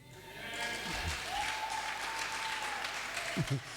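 Sustained applause from a church congregation in Kajiado, Kenya, dense and steady for several seconds, with a faint tone running through it.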